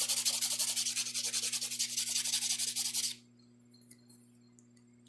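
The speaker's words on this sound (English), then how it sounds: "And now we buff." A buffer rubs back and forth across an acrylic nail, giving a steady, close scratchy rasp in quick even strokes for about three seconds before stopping over a faint background hum.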